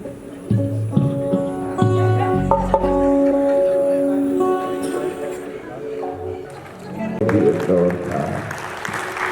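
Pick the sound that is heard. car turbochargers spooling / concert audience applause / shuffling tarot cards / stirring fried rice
concert audience applause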